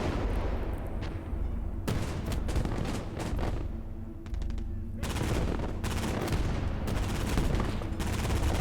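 Dense gunfire and explosions fill the battlefield of the WWII game Gates of Hell: Ostfront, with rapid volleys and booming blasts layered continuously and loudly.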